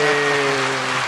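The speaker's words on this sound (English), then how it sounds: "Generic clap," Studio audience applause, a short burst of steady clapping that fills the moment and fades slightly, with no voices over it.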